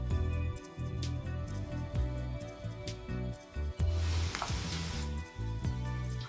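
Chopped onion and a green chili sizzle and crackle in a hot pan while being cooked for a prawn puff filling, a steady frying hiss with a louder burst midway, beneath background music.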